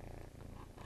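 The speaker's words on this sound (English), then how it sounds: "He is purring, if you can't hear that." A pet cat purrs close by indoors in a soft, continuous rumble. The short stretch holds no speech.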